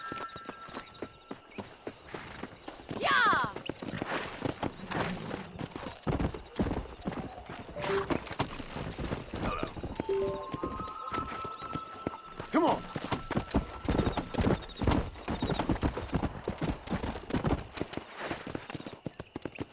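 Horse hooves clip-clop and gallop in Red Dead Redemption, a close, steady, fast beat with a neigh or two and voices talking over it.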